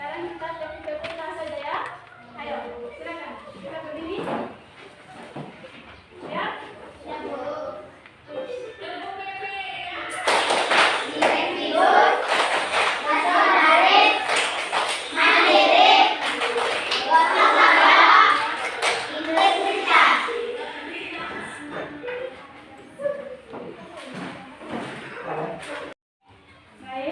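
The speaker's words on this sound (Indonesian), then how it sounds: "Sekarang kita tepuk-tepuk saja ya." Schoolchildren in a classroom burst into a long stretch of rhythmic group clapping, loud and close, after a teacher's spoken instructions, with chatter around the claps and talk before and after.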